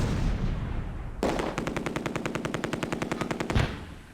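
Machine gun on a half-track in the war game Close Combat: A Bridge Too Far, firing one sustained rapid burst of evenly spaced shots, loud and close, ending abruptly after about two seconds.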